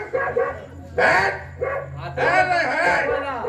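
A performer in a Marathi stage play imitates a pack of dogs with loud, close, voiced barks and yelps, arriving in several bursts, the last one long and drawn out.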